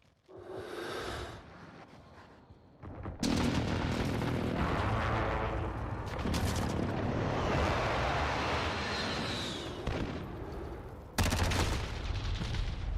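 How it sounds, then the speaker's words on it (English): Precision airstrike explosions in Call of Duty: after a short rumble, heavy booming blasts strike in quick succession and roll into a loud, continuous roar of detonations and debris, with a fresh sharp blast near the end. "Enemy precision airstrike."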